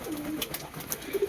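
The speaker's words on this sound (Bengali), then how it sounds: "ফাইনালি সেকেন্ড পায়রাও ল্যান্ডিং হয়ে গেছে।" Pigeons coo softly at close range as they land at a home loft, a few brief low calls with light fluttering rustle.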